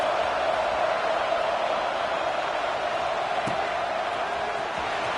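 A subdued stadium crowd in the college football video game NCAA Dynasty 26 gives a steady, even wash of murmuring noise throughout, with only a faint thud partway through.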